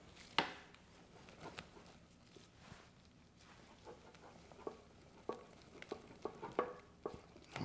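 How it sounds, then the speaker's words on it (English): Whisk stirring butter into polenta in a pot, giving soft scraping taps and clicks that come and go over several seconds, quiet and close with no talking. "We're just stirring it until that butter melts."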